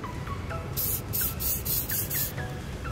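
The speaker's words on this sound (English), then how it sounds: "now we're going to spray it with some battery terminal protector" Several short hissing bursts of battery terminal protector from a spray can, each lasting about a quarter second, repeated in quick succession at close range.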